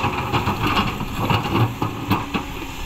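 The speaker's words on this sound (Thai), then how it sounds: "จังหวะหินล่วง" Large rocks tumble from a Kobelco SK200-10 excavator bucket into a ten-wheel dump truck beside a river, giving loud rumbling crashes and clattering impacts over a steady engine drone.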